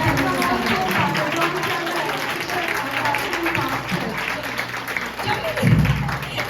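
Applause from a women's church seminar audience in a hall, moderately loud and continuous, mixed with crowd noise and some talking over it.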